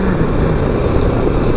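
A tractor engine runs steadily near sugarcane fields, a loud continuous low rumble that fills the scene without any voices.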